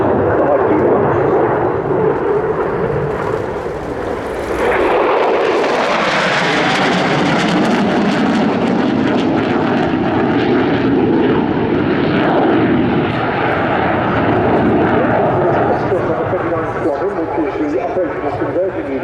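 An RAF Eurofighter Typhoon FGR4 jet makes a high-speed display pass at an airshow, a loud roaring jet sweep that swells sharply midway and stays intense, with a commentator talking over it.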